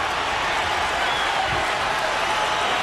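Wrestling arena crowd at a WWE Velocity match roaring steadily and loudly throughout, a dense continuous wash of cheering with no break.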